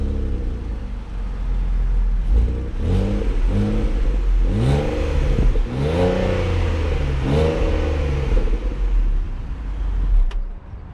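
A 2019 Ford Flex SEL AWD with a naturally aspirated 3.5-liter V6 and six-speed automatic accelerates hard, its engine note climbing through repeated rising sweeps as gears change, loud and close throughout with no talking.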